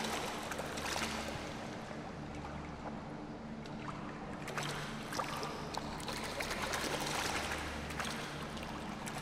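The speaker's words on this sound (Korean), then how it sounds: "물소리 되게 좋다." Soft, continuous flowing and trickling water in a sky-like backrooms game level, a gentle steady wash at low volume with faint bubbling detail, no voices.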